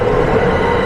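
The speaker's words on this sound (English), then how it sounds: "there goes the Millennium Line train" A Vancouver SkyTrain Millennium Line train passing close by in East Van, a loud, steady rushing rumble of the rail car lasting under a second.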